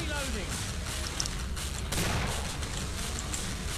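Shotgun blasts in the video game Killing Floor, dense booming gunfire packed tightly together amid a chaotic firefight, with players' voices mixed underneath.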